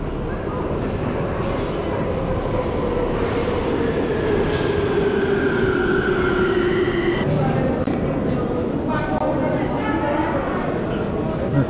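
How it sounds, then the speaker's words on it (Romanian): A metro train at Ștefan cel Mare subway station in Bucharest, a loud continuous rumble with rising and falling squeals and tones from the wheels and brakes, while people talk nearby. "În stația de metrou Ștefan cel Mare"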